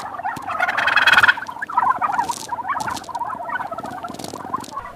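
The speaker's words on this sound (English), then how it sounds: "These are 3-week-old turkeys, and the hundreds of turkeys here will be kept in cages for 2 months" Hundreds of three-week-old turkeys kept in cages on a farm, a dense, close chorus of overlapping gobbles and chirping calls swelling and fading continuously, with scuffling patter underneath and no voices.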